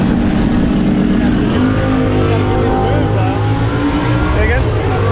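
BMW M8 Competition idling and revving at a drag strip start line, a loud, steady low engine drone that rises slightly in pitch, heard close up under people talking.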